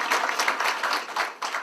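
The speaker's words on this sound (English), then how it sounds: "please refrain from clapping" Audience at an Iowa congressional candidate forum clapping in a short burst of scattered, uneven applause that tapers off quickly.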